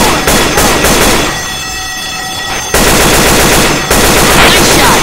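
Gunfire in Left 4 Dead 2, loud rapid bursts of automatic shots up close, broken by a brief lull of rumbling background before firing resumes hard and continuous.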